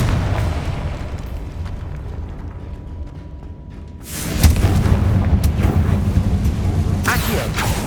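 A Confringo spell blast goes off in Hogwarts Legacy, a sudden loud boom that swells into a sustained roaring rumble over an ongoing dense game soundscape.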